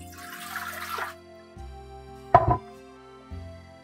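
Water pours into a bread machine pan for homemade pizza dough, a short gushing stream followed by a brief splashy burst, close and clear.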